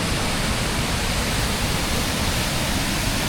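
Sembarangulam waterfall in Tamil Nadu, water crashing onto rocks and rushing away: a steady, loud, broadband roar that holds unbroken throughout with no voices.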